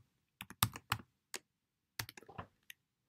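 Keystrokes on a computer keyboard while entering an Excel formula: a few sharp, close clicks in two short clusters separated by a pause, quiet and with no voices.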